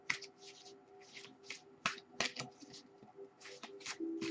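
Tarot cards shuffled by hand, a run of crisp papery riffles and flicks with brief pauses as an advice card is drawn from the Decision Guide deck, close and fairly quiet with no talk.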